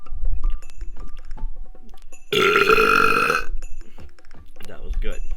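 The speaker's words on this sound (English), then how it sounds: "Now that is probably the best way to do a swallow burp" A swallow burp made by gulping air, heard as one loud, sustained, resonant belch of about a second, preceded and followed by gulping, swallowing and breathing noises close up.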